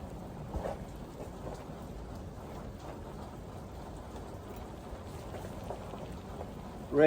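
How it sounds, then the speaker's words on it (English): Rain falling steadily on a Rival 41 sailboat, a soft, even patter with faint distant rumbling beneath, quiet throughout until a brief louder sound at the very end. "Rain again."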